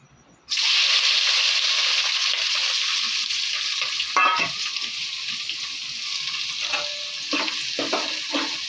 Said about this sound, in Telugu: నూనె వేగిపోయిందండి, ఉల్లిపాయలు వేసుకుందాం.